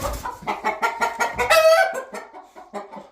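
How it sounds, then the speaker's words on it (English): Laying hens cluck in a rhythmic run of close, loud calls inside a chicken coop, with one longer drawn-out squawk in the middle before the clucking carries on. "And these laying birds can go on this side."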